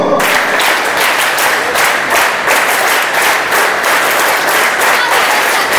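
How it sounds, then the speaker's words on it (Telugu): A hall of school children applauds at a first aid awareness programme, a sustained, fairly loud sheet of rapid clapping with a little crowd murmur mixed in. "Teacher claps go."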